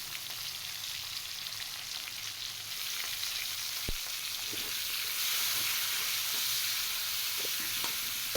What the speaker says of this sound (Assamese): শুকান জলকীয়া এটা আৰু গোটা নহৰু দুটা দিছোঁ।